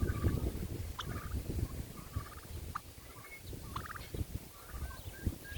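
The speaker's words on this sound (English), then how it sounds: "I hope the wind's not making so much noise that you can't hear the birds." Turkeys gobble in short, repeated bursts at a moderate distance on a windy day, the calls partly buried under strong, rumbling wind noise.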